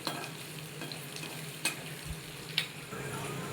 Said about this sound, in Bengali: পেঁয়াজটা আমি তেল দিয়ে ভেজে নেবো হালকা করে ভাজবো